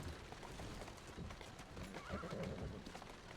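Horse-drawn carriage in a multiplayer video game, rendered as steady, rhythmic hoof clip-clops with an occasional whinny, continuous and fairly loud over a busy game soundscape.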